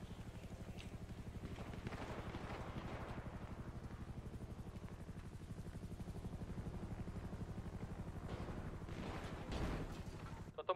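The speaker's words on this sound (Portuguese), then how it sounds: "Tô tomando muito tiro." Rapid gunfire in a roleplay video game, a dense continuous stream of fast shots with a low rumbling, mechanical texture, fairly faint and steady, swelling briefly near the end.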